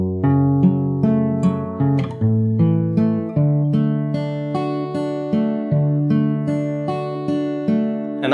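A fingerpicked acoustic guitar plays a full outro pattern, with steady plucked arpeggios over shifting bass notes, repeating in a flowing even rhythm, close and clean and unaccompanied by speech.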